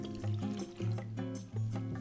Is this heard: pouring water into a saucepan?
yes